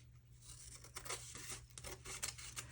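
Paper for a junk journal tag is trimmed with quiet, repeated snipping and crinkling strokes over a steady low hum, close and soft throughout.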